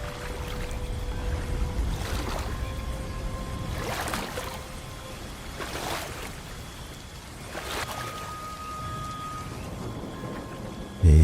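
Rain falls steadily through a stormy night on a river, a soft continuous wash with faint splashing and a few brief swells, heard alone without talk.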